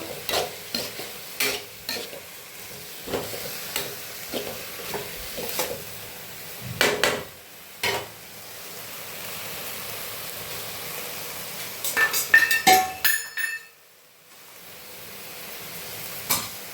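Chopped banana flower fries in a pan, a soft steady sizzle broken by repeated brisk scraping stir strokes, clustered near the end before a brief quiet gap, close up and without voices.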